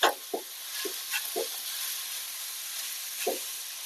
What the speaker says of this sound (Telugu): ఇది మీడియం ఫ్లేమ్లో వేయించాలి